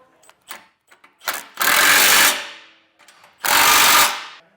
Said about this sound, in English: Now we'll take a 19mm socket and snug up all of our hardware.